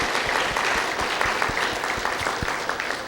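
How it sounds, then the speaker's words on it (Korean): A church congregation gives a sustained round of applause, many hands clapping together in a dense, even patter that fills the hall for a few seconds. "우리 하나님께 감사와 영광의 박수를 드리겠습니다."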